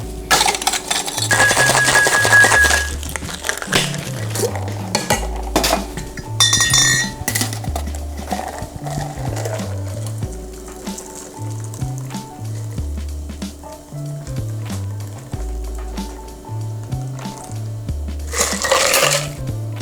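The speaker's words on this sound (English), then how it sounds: "Now we're gonna shake this drink up and serve it in a chilled coupe." American whiskey cocktail shaken with ice in a metal shaker, a loud, close, rhythmic rattle of ice knocking against the tin in steady bursts over several seconds.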